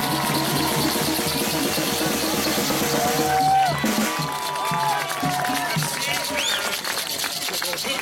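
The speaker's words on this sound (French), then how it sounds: "Je vous remercie pour l'applaudissement" A crowd at a citizen gathering in Sorel-Tracy applauds and cheers steadily for several seconds, with whistles rising above the dense clapping and voices mixed in.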